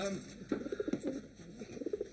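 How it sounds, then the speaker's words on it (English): Pigeons cooing indoors in an office, a run of soft throaty coos in quick pulsing bursts, fairly close and moderately loud, with other indoor sound under them. "Wilson, my office is alive with pigeons"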